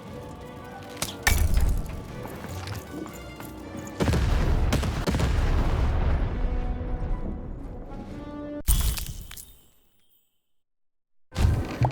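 A cannon in the Lost In Random video game fires with a loud sharp boom, followed by crashing debris and a long rumbling decay, then near silence before another abrupt burst at the end.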